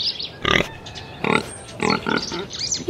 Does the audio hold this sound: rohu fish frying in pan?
no